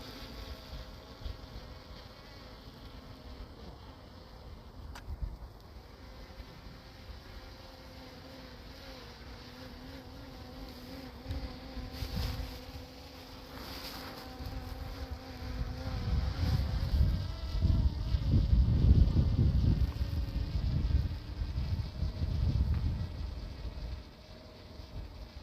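A DJI Mini 3 Pro drone flies in high wind, its steady, insect-like buzzing whine running throughout while gusty wind rumble swells louder in the second half.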